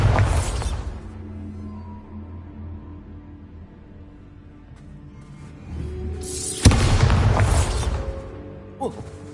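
Bursts of a Bombarda blast spell in the fantasy game Hogwarts Legacy, with two loud booming, crackling eruptions near the middle and end, each settling into a rumbling tail over low game ambience.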